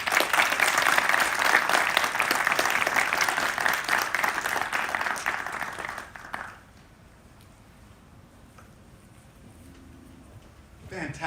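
Audience at a graduation ceremony claps loudly for about six seconds before the applause fades to a quiet room with faint murmuring.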